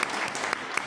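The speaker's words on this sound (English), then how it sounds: "somebody wanted to applaud a little bit there" At a seminary's opening convocation, a small audience applauds briefly and fairly quietly, with a scattered patter of hand claps lasting under a second.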